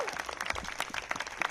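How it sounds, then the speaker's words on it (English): Rally crowd applauding at a women's march in Seneca Falls: a brief, fairly faint patter of many hands clapping, with no voices over it. "So let's give a little round of applause to the enlightened men who join us in our fight."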